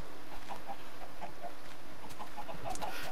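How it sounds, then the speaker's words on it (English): Chickens in the video game Minecraft cluck in a steady run of short, repeated calls from a crowded pen, fairly close and alone with no talk. "The chickens are all piled in there into a 2-block square."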